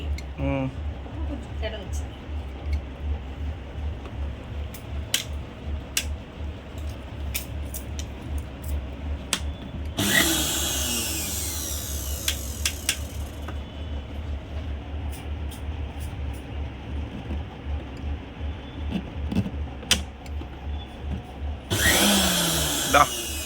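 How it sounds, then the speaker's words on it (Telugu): A mixer grinder (mixie) in a home kitchen, where crab curry with cauliflower is being cooked, kicks on in short, harsh whirring bursts that stop and restart, under a low rumble and people talking. "మిక్సీ అప్పుడప్పుడే ఇట్లా ఆటలాడుతూ ఉంటుందండి"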